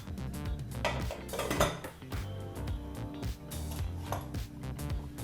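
A pressure cooker lid is fitted and closed in a home kitchen while cooking tomato bath, producing repeated metallic clanks and scraping clinks of pots and utensils throughout, close and fairly busy.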